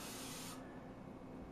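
Canola oil sprays from a can inside bell peppers in one short, close hiss that cuts off sharply, followed by quiet background.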